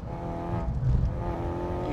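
A Ford Focus RS engine drones steadily from inside the car on a race track, a loud, continuous tone with a slight swell in revs midway through the short burst.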